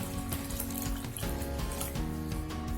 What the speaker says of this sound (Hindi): इसमें गर्म पानी ऐसे बीच में डाल के